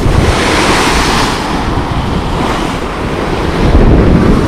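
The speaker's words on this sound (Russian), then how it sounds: "сразу пошли вот волны красивые" Sea waves break on the beach at Lazarevskoye in a continuous loud wash of surf, with heavy wind rumble on the microphone and no talk.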